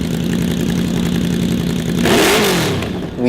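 A modified Yamaha VMax motorcycle engine runs loud and close, holding a rough, throbbing idle before a quick rev swells and falls back down.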